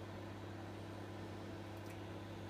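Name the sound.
microwave oven running while heating water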